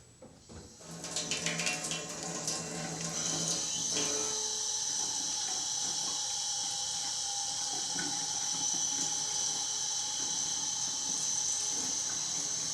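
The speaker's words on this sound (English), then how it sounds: "So the clean side down under low pressure water." Cold water at low pressure runs steadily through the pleats of a K&N air filter, a continuous close hiss and splash that builds in the first seconds and then holds even, with no talking.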